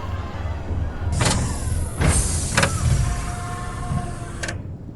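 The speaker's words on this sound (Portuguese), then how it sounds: "Do céu, uma nave do tipo pelicano desceu, fazendo um barulho agudo" A pelican-type spaceship descends in an audio-drama sound effect, with a sustained high-pitched whine over a low engine rumble and several sharp whooshing bursts, loud and close.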